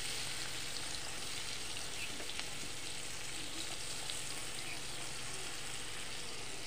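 Chopped onion and garlic frying in white oil for butter chicken, a steady close sizzle with occasional crackles and faint stirring, no talking.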